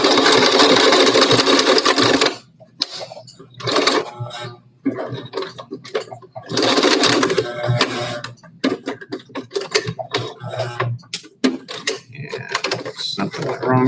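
A sewing machine stitches fabric for a face mask in loud rapid bursts that start and stop repeatedly. Between the runs, quieter clicks and handling sounds can be heard.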